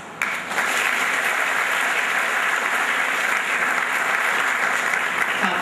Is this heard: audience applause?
yes